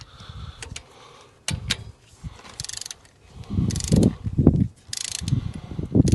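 A torque wrench tightens a spark plug with a crush washer to 18 foot-pounds on a third-generation Toyota RAV4, giving close, scattered mechanical clicks and ratcheting knocks with handling noise between them.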